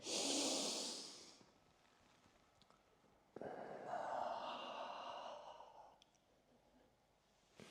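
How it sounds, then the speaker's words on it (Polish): Breathing during a strength and flexibility workout: a loud audible breath at the start, then quiet, then a longer, softer breath lasting a couple of seconds, with no talk. "Znowu wdech."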